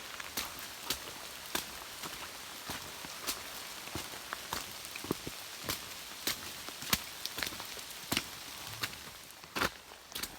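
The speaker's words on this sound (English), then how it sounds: "It's raining again!" Rain falls steadily on a mountain trail in the Great Smoky Mountains, a soft continuous patter broken by frequent sharp drips and taps close by, with no one speaking.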